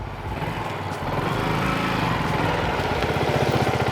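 A motorbike engine runs steadily while riding, its drone rising slightly through gear changes on a rebuilt bike with a new chain and sprocket, loud and close with no talk.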